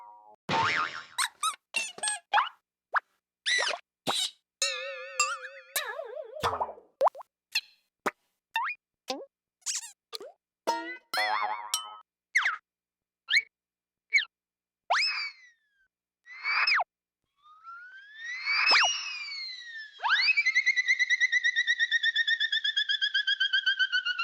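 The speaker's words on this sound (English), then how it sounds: "get some boings over here, so I can get some boings." Cartoon sound effects played in quick succession: springy boings, plops, squeaks and warbling whistles, mostly short isolated hits separated by silence, ending with a longer sustained wobbling tone.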